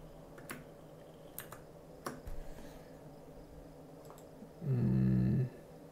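Keyboard commands are typed while working in GIMP, giving a few sparse, sharp key clicks spread across several seconds, followed by a brief low buzzing hum near the end.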